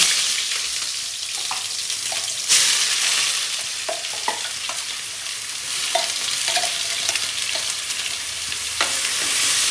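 Cumin seeds fry in hot oil in a village kitchen in Punjab, a loud steady sizzle that runs throughout, with occasional light clinks and stirring knocks and no speech.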